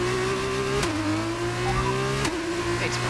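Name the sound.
racing car accelerating flat out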